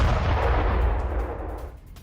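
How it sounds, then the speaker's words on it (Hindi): Iranian missile strike on Arad, Israel: a dense, rumbling roar of explosions with heavy low-end boom and broad crackling noise, loud and sustained before slowly fading near the end. "अब ये आराद पर किस तरह से मिसाइलों से अटैक किया गया है"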